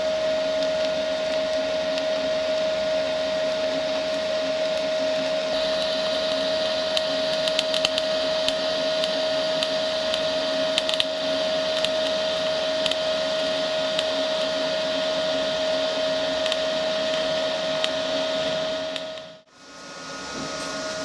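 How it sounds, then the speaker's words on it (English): An R-Tech MIG180 MIG welder scratch-starts an arc on metal: a loud, steady buzzing hiss with a constant tone runs unbroken for about nineteen seconds, cuts out abruptly, then resumes. "First thing we'll do, we'll try and scratch the arc"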